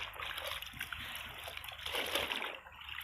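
Fabric dipped again and again into diluted myrobalan dye solution, with steady sloshing and splashing of liquid throughout, close and continuous, with brief surges of splatter as the cloth is worked through the bath.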